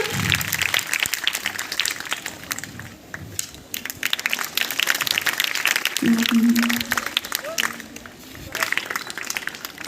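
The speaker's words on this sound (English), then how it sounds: "All of you clap for Vaishnavi Gupta." A school audience at an Independence Day cultural programme claps for a student, dense uneven applause lasting several seconds, with a voice speaking over it partway through and clapping continuing after.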